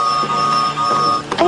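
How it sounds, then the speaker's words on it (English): A train whistle toots in a cartoon, a loud sustained tone with a steady pitch that holds for about a second before breaking off. "I'm gonna have to ask you to stop tooting so close to us."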